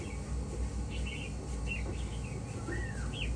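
Several short chirps and whistled calls from a caged songbird offered for sale, scattered and fairly faint over a steady hum of background noise.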